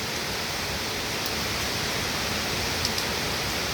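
Steady rain falling during a long downpour in Dhaka, heard from indoors at home as a constant, even hiss with no clear drops or thunder, moderately loud and continuous throughout.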